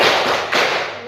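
A close, loud hand clap snaps once and fades quickly, the second beat of a counted clapping warm-up in a classroom.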